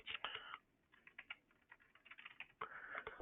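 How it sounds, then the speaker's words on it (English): Computer keyboard typing while an attorney's name is entered into a legal records portal, with quick close bursts of key clicks, a brief pause, then another fast run of keystrokes. "you can type this in."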